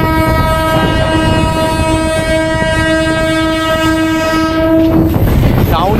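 A Howrah local Alstom electric train rumbles past with steady clatter while its loud horn sounds in one long sustained blast for about five seconds before cutting off.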